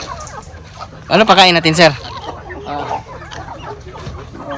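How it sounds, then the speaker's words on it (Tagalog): Heritage chickens on a Filipino breeder farm cluck and call in a short loud burst near the microphone, then quieter fowl sounds continue while someone speaks. "may mga heritage chickens po ito lahat"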